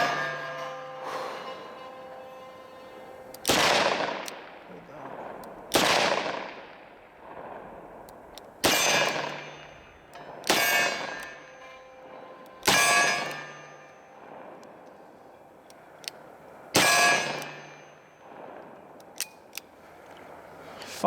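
A Smith & Wesson 686+ .357 Magnum revolver with a 3-inch barrel fired double action, seven loud close shots spaced a couple of seconds apart, each with a ringing decay.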